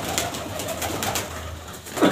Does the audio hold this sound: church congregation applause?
no